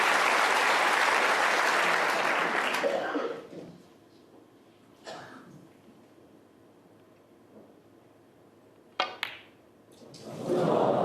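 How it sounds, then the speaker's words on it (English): Snooker crowd at the World Championship final applauding loudly, a dense burst of clapping that dies away, followed by quiet with a couple of sharp knocks before applause swells again at the end. "The crowd were applauding it in on its way."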